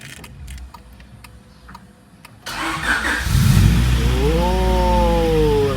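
A car engine cranks and catches after a quiet stretch of faint clicks, then settles into a loud, rising idle with a few revving swells, close by.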